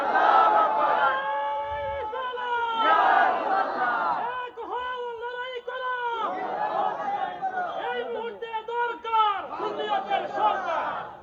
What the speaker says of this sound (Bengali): আল্লাহু আকবার, জোরে বলেন